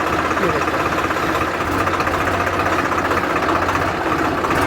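Mahindra 275 DI TU PP tractor engine running steadily in first gear, a loud, continuous low diesel rumble with a faint knocking pulse throughout.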